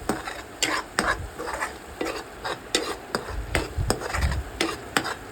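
Chicken tikka masala spices cook in a pan with coriander and cumin powder, stirred with a spoon in rhythmic scraping strokes and knocks against the pan under a soft sizzle, close and fairly loud.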